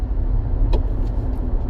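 A 2024 Subaru Solterra electric car accelerates from 30 to 60 mph, heard from inside as a steady low road rumble and tire roar with no engine note, a brief thump midway.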